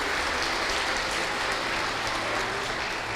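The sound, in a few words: audience applauding in church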